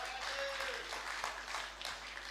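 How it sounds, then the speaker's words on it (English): An audience at a client party applauds for a video producer, a steady broadband wash of clapping at moderate level, with faint voices mixed in. "We give a round of applause."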